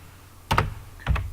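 Two quick bursts of keystrokes on a computer keyboard while code is typed, close and crisp in an otherwise quiet room.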